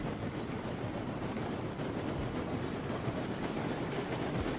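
Mastodon steam locomotive hauling cars up an incline in the Railroads Online video game, a steady, dense rumbling chug with rolling rail noise, constant and unbroken, heard alone.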